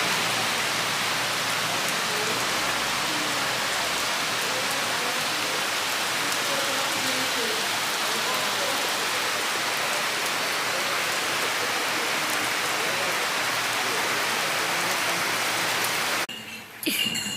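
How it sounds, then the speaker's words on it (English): Heavy rain pours down steadily in a dense, unbroken hiss, cutting off abruptly at the very end. "It's raining, it's pouring."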